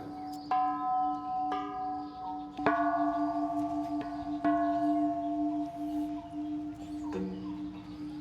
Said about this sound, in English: You ring these bells for good luck.